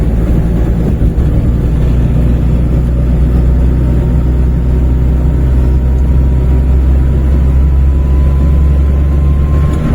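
A Maruti 800 car engine strains under load in fourth gear, a steady, loud, low drone with rumbling cabin noise that runs unbroken for the whole stretch, with no voices over it.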